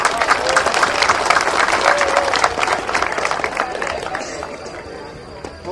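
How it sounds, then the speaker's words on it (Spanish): Crowd applause for a singer who opened an anthem at a village sports olympiad in Rudna Glava, Majdanpek, sustained, dense clapping with crowd murmur throughout, tapering slightly near the end. "Još jedan aplauz za Mariju."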